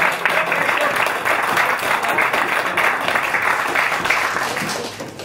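Steady applause from an audience at an acoustic music club honoring a performer, dense clapping that holds for several seconds and thins slightly toward the end.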